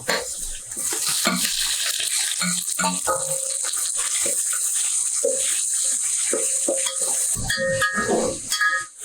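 Tomatoes sauté in a pan with a soft, continuous sizzle, broken by intermittent scraping and stirring clatter from a utensil against the pan, with no talking.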